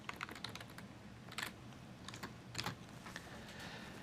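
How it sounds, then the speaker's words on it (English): Fast typing on a computer keyboard while entering a formula in a data-modelling program, with quick irregular clusters of close, crisp key clicks over a low steady room hum. "you can start typing in here"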